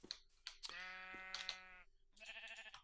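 Video game sheep bleat repeatedly in drawn-out, wavering calls that overlap one another, set against faint clicking.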